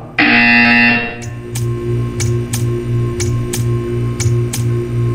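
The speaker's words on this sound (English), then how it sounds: "You will hear a buzzer." A loud electronic buzz from the video game Portal 2 sounds for about a second, followed by a steady low hum with a repeating sharp ticking or clicking pulse.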